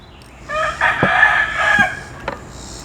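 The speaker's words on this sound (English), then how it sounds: "Got to build him a pen next. That's Rooster." A pet rooster crows once in a backyard, a loud, close, rising and falling call of about one and a half seconds with a short cluck at the end.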